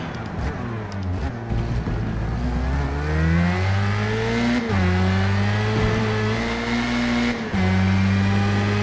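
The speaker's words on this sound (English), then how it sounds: "I can redline the engine as much as I want." A Formula Mazda race car engine revs hard and climbs repeatedly toward redline, with quick upshifts breaking each rising whine, loud and close from the cockpit.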